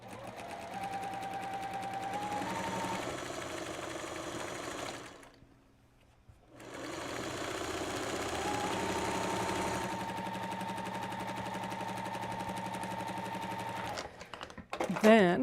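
A home sewing machine stitches through quilt fabric for a layer cake custard quilt, a steady close whir running for several seconds, pausing briefly, then resuming, with a voice talking over it.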